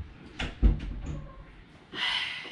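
A door is closed indoors at home, giving a short thud followed by a brief latch click, with some shuffling and a rustle afterward.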